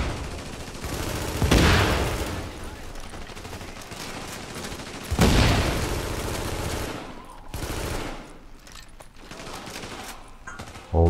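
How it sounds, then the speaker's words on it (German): In The Division, a grenade goes off in a police academy fight with two loud booming blasts, surrounded by sustained gunfire that drops back and then flares again. "ich schmeiß mal eine Granate hin"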